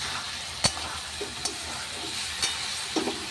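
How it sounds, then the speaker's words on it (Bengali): Fish frying in a pan with vegetables for a curry, a steady quiet sizzle broken by occasional sharp clinks and scrapes of a utensil against the pan, close by with no speech. "এবার মাছটা দিয়ে দিচ্ছি, আস্তে আস্তে হোক"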